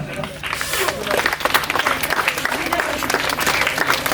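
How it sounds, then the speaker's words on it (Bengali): Children clap hands loudly and steadily at a school unveiling ceremony for a Vidyasagar statue in Birbhum, a dense continuous patter of many small hands close by, with no speech over it. "জোরে হাততালি দাও বাচ্চারা"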